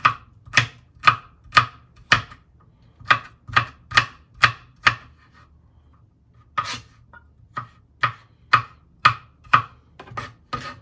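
A knife chops garlic on a cutting board with sharp, evenly spaced knocks, about eight strokes, then a short pause and another run of chops, close and crisp with no talking.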